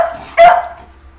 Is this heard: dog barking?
yes